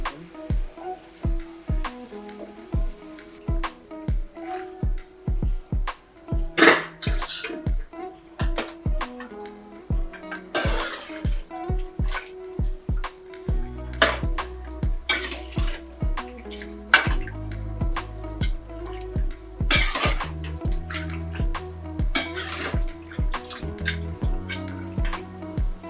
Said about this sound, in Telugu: కొంచెం వేడి నీళ్ళు వేసి కడిగితే మేళంగా ఉంటుంది.